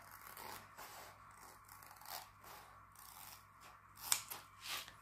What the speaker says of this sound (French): je vais couper un bord court pour débuter, que ça soit rapide